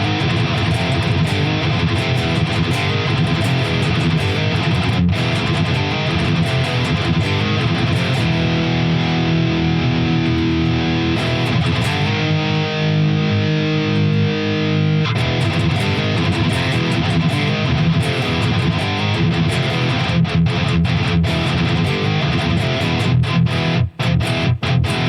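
Electric guitar played through a Fractal Audio Engl Savage amp model with large hall reverb and cabinet simulation, giving a continuous, loud, distorted tone with chugging riffs and sustained notes throughout.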